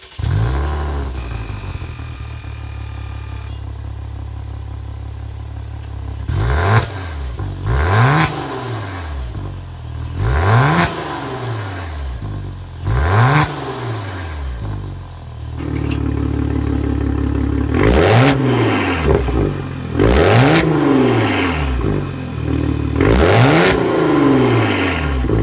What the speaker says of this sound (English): Let's go inside, start it up so we can hear that engine rev up.